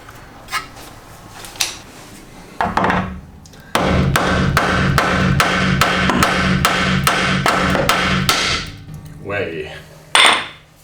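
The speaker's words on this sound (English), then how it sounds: "that's just going to protect the threads there whilst I hit it with a hammer" A rapid series of sharp metallic hammer blows on a threaded nut rings out in steady rhythm, close and loud, after a few scattered single knocks, during BMW E30 front hub work.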